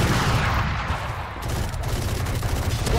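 Dense machine gun fire in the shooter game Valorant, a continuous loud rattling fusillade with booming low end lasting the whole few seconds, no clear speech.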